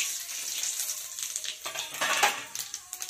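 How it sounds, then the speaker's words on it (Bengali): Dried red chillies, bay leaves and five-spice seeds hit hot oil in a kadai for a Bengali lau palong shak ghonto, bursting into a loud crackling sizzle with sharp pops and spatters up close. "এখানে দুটো লঙ্কা ফোড়ন দেবো, দুটো তেজপাতা, আর দেখুন একটু পাঁচ ফোড়ন নিয়েছি, ফোড়নে দেবো।"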